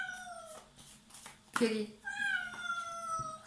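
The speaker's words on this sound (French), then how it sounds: "c'est la première fois qu'elle miaule comme ça" A female cat meows several times, loud and close, in drawn-out tonal calls, with a person talking around and over the meows.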